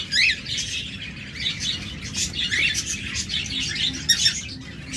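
Diamond doves, cockatiels and lovebirds kept on a bird farm fill the air with overlapping chirps, tweets and squawks, a busy continuous chorus over a low background rumble.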